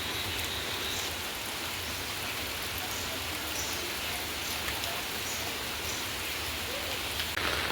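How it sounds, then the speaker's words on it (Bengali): Heavy rain pours outside in a steady, even hiss of drops striking surfaces, constant and uninterrupted with no voices. "সেই রাতে থেকে বৃষ্টি শুরু হয়েছে এখনও বৃষ্টি হচ্ছে"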